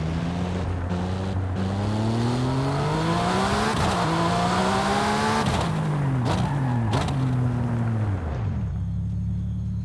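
Car engine revving and shifting through gears in the racing video game Forza Horizon 5, played on a Thrustmaster T248 wheel, with rising and falling tones, tire and road noise, and a drop to idle near the end.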